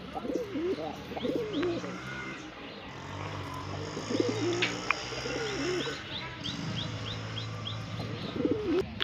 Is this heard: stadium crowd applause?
no